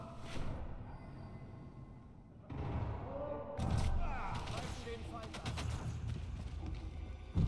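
Gunfire in the video game Sniper Elite 5 booms and thuds in several muffled shots and impacts over a steady game background, moderately close.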